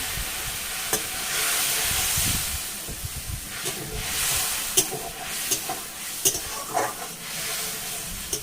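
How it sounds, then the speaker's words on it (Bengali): Spice paste with taro root being stirred and fried in a pan, a steady sizzling hiss broken by repeated scraping clicks of a spoon against the pan, close and alone. "মশলাটাকে ভালোভাবে আমি এরকম ভাবে কষে নেবো।"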